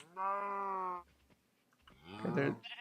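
A Minecraft cow lows twice with no talk over it: first a steady, sustained moo, then a shorter wavering one, both fairly close over a faint background.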